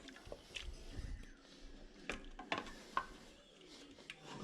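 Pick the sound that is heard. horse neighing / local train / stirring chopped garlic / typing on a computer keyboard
stirring chopped garlic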